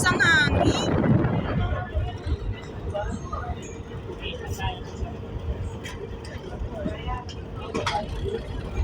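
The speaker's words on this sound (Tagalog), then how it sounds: "Lakas ang hangin" Strong wind buffets the microphone at Batangas Port with a steady low roar and rumble, while voices talk faintly in the background.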